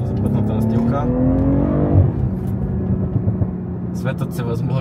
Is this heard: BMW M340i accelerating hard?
yes